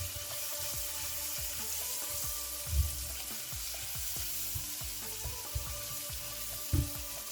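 Onions and garlic fry in a pan, with the garlic starting to brown. A low, even sizzle runs throughout, and a few soft knocks and stirring bumps come through close by.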